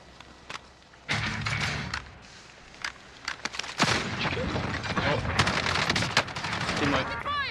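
Gunfire in a live-streamed video game comes as bursts of sharp shots and rapid fire, loud and close, over constant game noise. A player's voice talks at times through the action.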